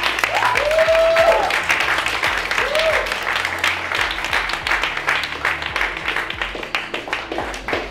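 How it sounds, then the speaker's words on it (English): A live audience claps for a lyrical fighter's talk, a loud burst of applause that thins out to scattered claps, with speech and a brief whistle-like tone mixed in. "give a big round of applause."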